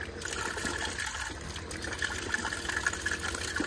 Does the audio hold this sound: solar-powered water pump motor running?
yes